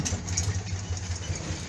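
A cold Citroën 2CV engine runs at idle nearby, a quiet, steady low chugging hum with no voices.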